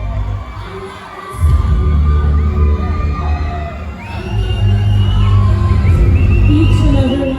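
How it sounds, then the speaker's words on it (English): Loud, sustained crowd noise from a pageant audience at the Miss Anguilla festival, with cheering, shouts and whoops swelling after a brief lull and continuing strongly to the end. "Ladies and gentlemen, give a round of applause for all our contestants."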